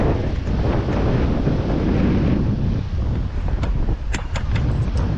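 Strong wind in Goa roars and buffets the microphone continuously, with a steady rushing noise and a few brief knocks near the end.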